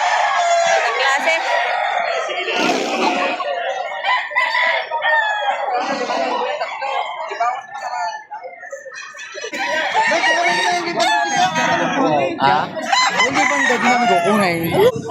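Roosters crow repeatedly with clucking fowl at a livestock auction market in Padre Garcia, Batangas, close and loud over steady crowd chatter, with people talking throughout.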